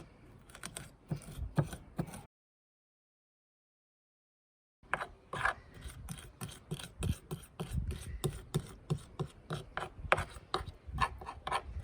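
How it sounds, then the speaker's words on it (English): A fork presses and scrapes garlic and salt into a paste, making quick rhythmic rasping strokes up close, with a pause of silence before the scraping resumes. "grind some salt onto the garlic and then use a fork to smash it up into a paste"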